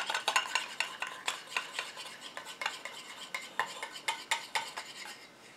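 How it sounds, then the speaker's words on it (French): A small utensil briskly stirring a homemade rose BB cream in a bowl as the water phase is poured in, quick repeated light scraping and clinking strokes, close and steady with no talking. "Et maintenant je rajoute ma phase aqueuse en mélangeant gentiment."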